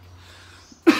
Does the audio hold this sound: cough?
yes